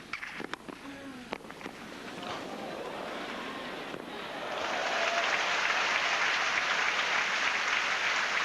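Applause at a tennis match between Henman and Coria for both players, starting as scattered claps and swelling into steady, broad crowd clapping that stays fairly distant and continuous.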